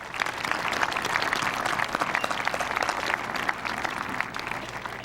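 A 2005 high school graduation audience in South St. Paul gives a big round of applause, a full, continuous roar of many hands clapping at a steady level throughout.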